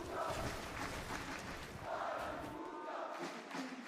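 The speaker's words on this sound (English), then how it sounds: "The crowd just constantly cheering for anybody on the NA or Havoc squad." A crowd at a Fortnite tournament cheers in rising and falling swells, fairly faint and distant, with a brief lull before another surge.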